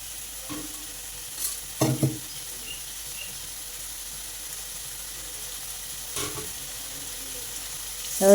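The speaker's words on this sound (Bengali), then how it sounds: "এরপর তিলটা একটু কষিয়ে নেবো ওর সঙ্গে।" Sesame seeds fry quietly in a pan for a sour hog plum dish, a faint steady sizzle broken by a few sharp clicks of a spoon stirring against the pan.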